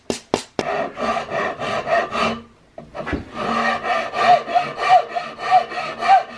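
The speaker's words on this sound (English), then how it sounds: "So I've got my round rasp here. I'm going to clean it out, and we're going to come in and establish a little bit of that cheek rest." A round rasp shapes the cheek rest on a wooden Hawken rifle kit stock, close and loud with rhythmic back-and-forth rasping strokes that pause briefly partway through before resuming.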